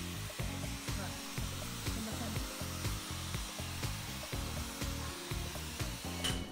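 A hair dryer blows on curly hair as the head tilts to different angles, a continuous breathy roar whose low tone pulses and shifts as the airflow moves around.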